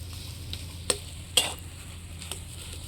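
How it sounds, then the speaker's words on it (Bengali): A spoon stirs fried spice mix into mashed potatoes, making soft scraping and a faint sizzle close by, with two sharper clinks of utensil against the pan and a quieter tap afterward. "ভাজা মশলাটা দিয়ে ভালো করে মিশিয়ে নিচ্ছি আলুর সাথে।"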